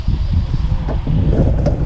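Steady outdoor wind rushing and buffeting a microphone near a windmill and wind turbine charging batteries at a DIY sun tracker setup, a continuous low roar with slight gusts throughout.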